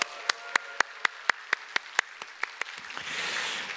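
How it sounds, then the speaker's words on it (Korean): Church congregation clapping after prayer at a Sunday service, a dozen or so sharp, evenly spaced claps ringing out near and clear, then a swell of softer cheering and scattered applause at the end. "모두에게 인사할 때 여러분 크게 한번 환호와 박수를 해주시기 바랍니다"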